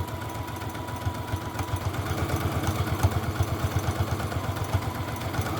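A sewing machine runs at a steady, slow pace while stitching a fabric wristlet, its needle thumping in a regular, fairly loud rhythm under a constant motor hum.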